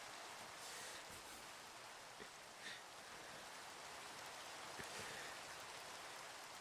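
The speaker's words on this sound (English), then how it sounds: "It is a nice rainy day." Steady rain falls in Minecraft, a soft, even hiss of drops with faint scattered patters, quiet and continuous.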